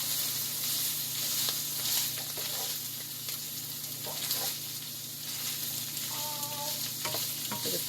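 Onions and garlic sizzle steadily in a frying pan for a baked ziti sauce while a utensil stirs and scrapes through them, with occasional clicks against the pan; the sound is continuous and close.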